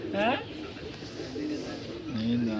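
Pigeons coo in low, rolling calls at a roost among a flock, with a brief higher chirp near the start and people talking over them.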